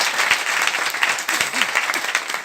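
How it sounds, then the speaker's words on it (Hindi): An audience claps loudly and continuously at a motivational business seminar, a dense, even burst of applause filling the whole moment. "ताली बजा दीजिए।"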